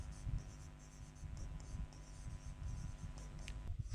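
Pen on paper writes out an English phrase in a lesson, steady close scratchy strokes in short repeated bursts with brief lifts between letters, faint under a quiet room hum.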